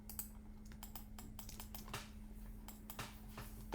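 Rapid, irregular keystrokes on a computer keyboard tapping away at close range during 3D modelling work, light clicks in uneven bursts over a faint steady electrical hum.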